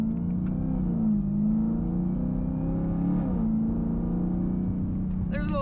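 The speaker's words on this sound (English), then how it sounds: "We're gonna see if we can hear a little bit more whine." A 2022 Camaro ZL1 1LE with a loud aftermarket exhaust drives on the street, its supercharged engine droning steadily and close with a faint whine riding over the exhaust rumble.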